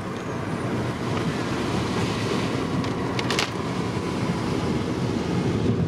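Steady wind roars against the microphone through an open car window while driving on a rural road, a constant broadband rush with no speech.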